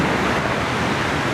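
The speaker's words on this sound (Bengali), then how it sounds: "খালি একমাত্র শুনতে পাওয়া যাচ্ছে সমুদ্রে হালকা হালকা গর্জনটা" Gentle sea waves rolling onto Bagda Beach in Odisha, a soft continuous roar of surf with some wind, steady and alone without voices.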